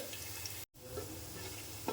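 Garlic frying in a pan for chicken fried rice, a steady close sizzle with light stirring scrapes, briefly cut by a short silent gap, then resuming alone without talk.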